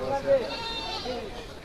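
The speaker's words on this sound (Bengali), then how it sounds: "এই যে একটা আছে বড় ছাগল।" A large goat at a village livestock market gives a short bleat amid crowd noise and someone talking nearby.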